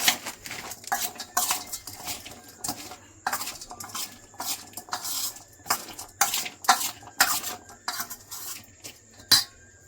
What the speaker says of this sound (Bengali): মিশিয়ে নেব ঝুরি ভাজা দিয়ে, আর একটু দিয়ে দিচ্ছি।